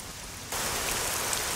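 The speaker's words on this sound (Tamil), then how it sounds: "சரியா மழை பெஞ்சிட்டு இருக்கு" Steady rain pouring down, a dense even hiss that thickens suddenly partway through and continues unbroken, with no talk over it.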